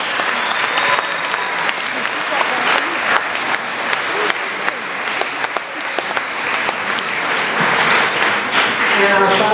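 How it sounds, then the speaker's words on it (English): A school audience gives a loud, sustained round of applause for high school orchestra groups, dense clapping with crisp individual claps throughout and some crowd voices mingled in, swelling slightly toward the end. "Give them all a round of applause."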